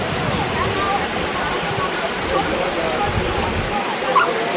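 Steady rushing water from Hilton Falls waterfall in Milton, Ontario, a continuous broadband roar heard at moderate distance, with a faint voice briefly present.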